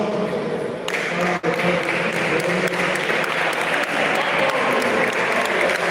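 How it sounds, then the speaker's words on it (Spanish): A crowd applauds steadily at a weightlifting championship medal ceremony, a dense continuous clapping that fills the whole stretch with only a brief dip. "Un aplauso"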